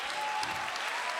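Steady applause from an audience after a performance by Aurelijus and young singer Nota, a dense, even patter of many clapping hands, filling the space throughout with a faint tone beneath.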